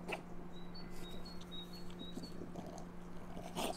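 Faint, high bird chirps repeat in a short series over a low, steady hum and background noise outdoors.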